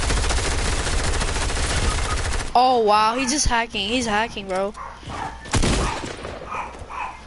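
SMG gunfire in a shooter video game: a rapid, loud burst of automatic fire fills the opening seconds, then an excited voice talks over quieter game sounds.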